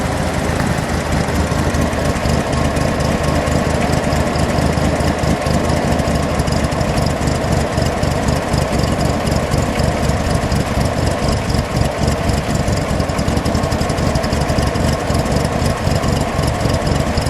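A 1966 Chevrolet Corvair Corsa convertible with dual exhaust and four carburetors idles for a long stretch, a loud close-up rhythmic burble that holds steady and even throughout.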